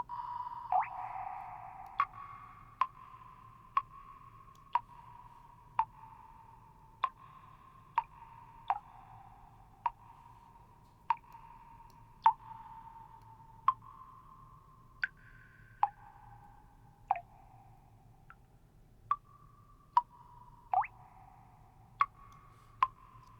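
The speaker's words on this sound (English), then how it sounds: "we're kind of somewhere where there's a dripping faucet" Steady drips from a faucet fall one after another at an even, unhurried pace, each plink ringing out with a short small-room reverb echo over a low background hum.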